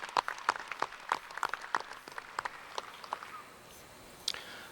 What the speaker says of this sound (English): Let's give them all a big round of applause there as you take a look at your junior champions.